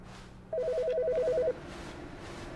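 A telephone rings once in The Stanley Parable video game, a rapid trilling electronic warble lasting about a second, moderately loud over a quiet ambient hum.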